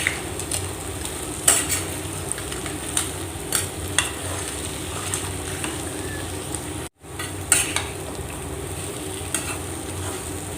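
Fried yam (senai kizhangu) chips are stirred into sautéed masala in a pan, making a steady sizzle with repeated scraping and clinking of a spoon against the metal, one brief gap partway through, no talk.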